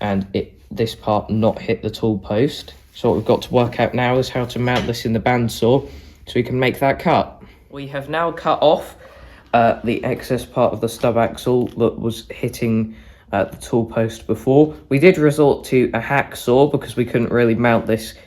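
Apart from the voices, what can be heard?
No everyday noises stand out.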